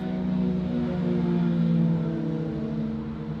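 A continuous droning, buzzing guitar effect tone with a rough engine-like growl, steady in level and resembling a motorcycle revving; no voices.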